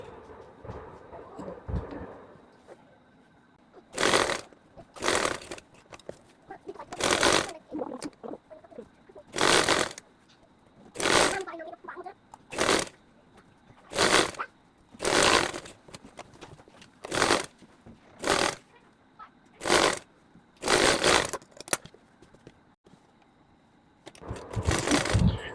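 A sewing machine stitches lace-trimmed sleeves onto the bodice of a child's dress cut from fabric scraps, in a dozen short, close runs of rapid stitching at a steady pace with brief pauses between them.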